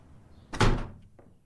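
A single old window banging shut in The Mortuary Assistant horror video game: one dull, close thud followed a moment later by a faint secondary knock, with no voices.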